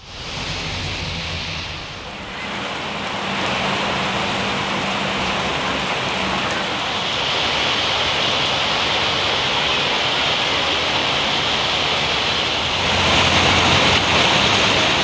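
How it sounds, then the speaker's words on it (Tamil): Heavy rain pours down while rainwater floods along a road, making a loud, dense, continuous hiss and rush that swells slightly toward the end. "கொட்டி தீர்த்த கனமழையின் காரணமாக சாலையில் மழைநீர் பெருக்கெடுத்து ஓடியது"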